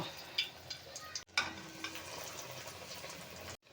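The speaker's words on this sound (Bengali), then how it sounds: "তেল গরম হয়ে গেছে, এবারে নাগেটসগুলো দিয়ে দেব।" Chicken nuggets frying in hot white oil in a kadai on a home gas stove, a steady soft sizzle with small bubbling pops, broken by brief gaps, close and moderately quiet.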